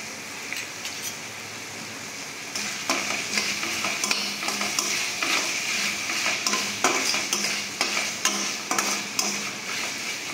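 Ginger-garlic paste and a spoonful of tomato sauce are stirred into soya chilli chunks in a hot pan, a soft sizzle under repeated metal spoon scrapes and clinks that grow busier after the first few seconds.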